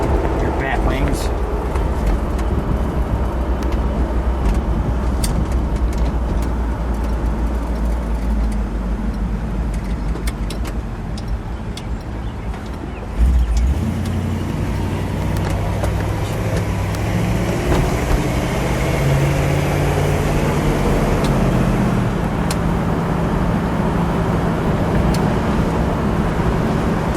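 A black 1959 Chevrolet Impala convertible with a 348 engine drives along, its low, steady engine rumble continuous throughout, with a brief shift in pitch midway as the car pulls on, while people talk over it.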